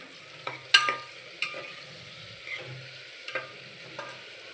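Tomato stirred in a hot pan of frying masala, with soft sizzling under a few sharp scraping clatters of a spoon against the metal, spaced irregularly and close by, no talking.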